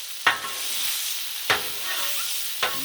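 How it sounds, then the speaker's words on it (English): Shrimp fried rice is stirred on a Blackstone griddle, three sharp scraping strokes of the spatula cutting through a loud, steady sizzle close by. "mix all this together"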